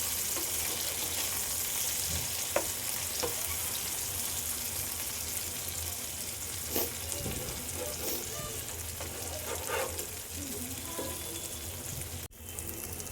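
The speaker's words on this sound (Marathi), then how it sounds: "आपण एक एक करून असं सगळ्या परतून घेऊया." Pieces of surmai fish fry in a pan, turned one by one, with a steady soft sizzle running throughout and a few light clinks of the utensil.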